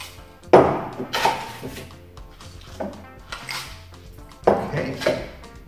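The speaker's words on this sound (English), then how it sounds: "And then we need some crushed ice." Crushed ice tumbling into a glass while mixing a Six Point Stag cocktail with pineapple juice, several loud clattering, rattling bursts separated by short pauses.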